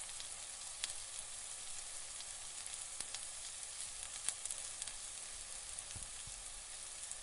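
Tomatoes cooking down with browned onions in a pan for chicken biryani: a soft, steady frying sizzle with faint occasional ticks and pops, quiet and continuous, no talking.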